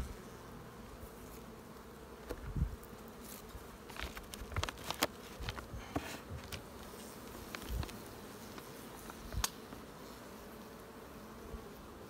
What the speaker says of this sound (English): I got about 6 seams of worth of bees here.